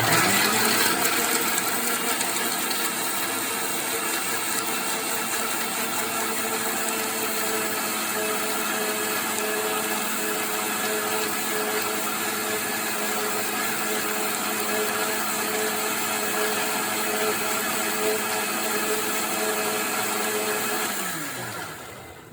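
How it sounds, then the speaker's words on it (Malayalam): A kitchen mixer grinder (mixie) blends a batch of ingredients at high speed, a steady loud motor whine with a rough churning edge that runs unbroken for about twenty seconds before spinning down at the end. "മിക്സി ക്ലോസ് ചെയ്യാം. നമ്മൾ അടിച്ചെടുക്കാൻ പോകണം."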